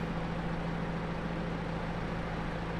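A vehicle engine idles in Farming Simulator 22, a steady, even low hum with no pauses or changes in pitch, heard alone with no talking.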